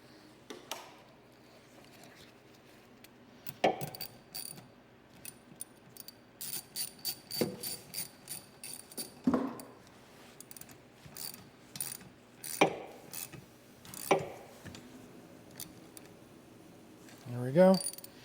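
Ratchet wrench tightening a battery terminal bolt during a battery swap on a 2013-2019 Ford Escape, with bursts of rapid clicking and metallic clacks spread across the clip, close and distinct, with no talk.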